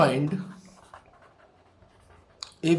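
Chalk or marker scratching on a classroom board in short strokes while a teacher talks over it, the writing faint under the voice with a couple of sharper taps.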